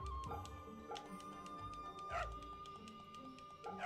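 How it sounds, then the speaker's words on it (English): A dog barking in the video game Fate/Samurai Remnant: a few short, fairly faint barks and yips mixed into steady game music and ambience. "Doggy!"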